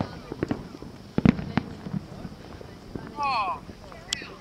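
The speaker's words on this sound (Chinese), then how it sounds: "在我周围大概有5个烟火啊" New Year fireworks over Donggang: scattered pops and bangs from several bursts, mostly distant, with a whistling rocket rising near the end, while people talk in the background.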